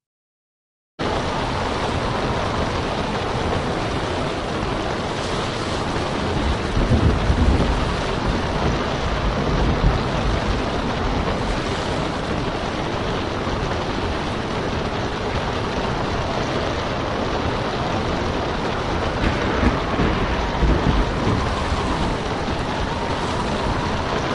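A storm at sea off the Cape of Good Hope, South Africa, with a steady roar of wind and rain and low rumbling swells of thunder, continuous and loud throughout with no voices.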